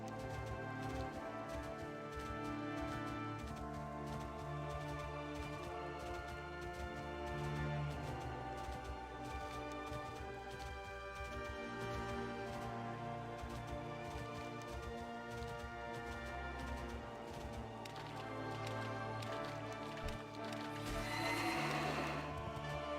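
Horse mount in World of Warcraft giving a faint neigh and whinny with clip-clop hoofbeats, quiet and low in level over a busy layered game soundscape.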